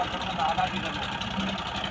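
A tractor engine runs steadily while planting corn with a drill machine, a continuous mid-range drone close by with voices talking over it.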